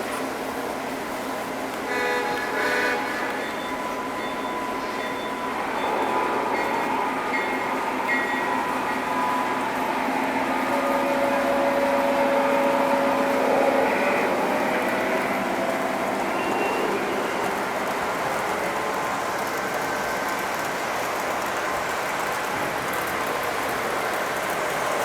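A Lionel toy train pulls away on its layout, a steady mechanical whirring and rolling hum with a sustained horn-like tone partway through, fairly close and continuous throughout.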